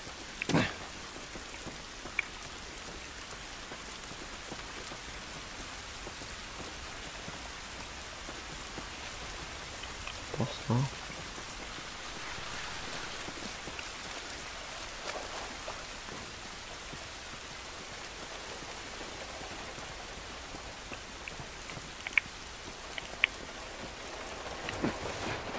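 Steady rain falls in The Last of Us, a dense, even hiss of drops on surfaces that lasts throughout, with a few faint knocks and taps and no talking.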